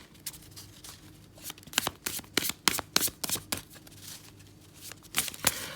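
A Tattoo Tarot card deck being shuffled by hand for a reading, with close, crisp riffling and slapping card bursts in an uneven rhythm and no speech.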